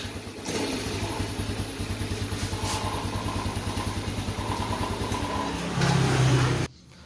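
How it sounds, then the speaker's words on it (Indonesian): A hard-starting Yamaha Vega Force motorcycle catches via its starter and runs with a steady, close putter, then revs louder briefly before the engine cuts off near the end. "setelah dicoba untuk menghidupkan tadi itu motornya sudah normal lagi"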